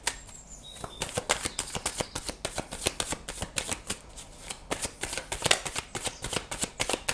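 Oracle cards being shuffled by hand, a dense run of quick papery riffles and slaps continuing steadily, close and fairly loud, with no talking.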